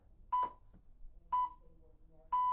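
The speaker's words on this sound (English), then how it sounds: "Listen out for the timer." A workout timer gives three evenly spaced electronic beeps about a second apart, clear and moderately loud over faint background noise.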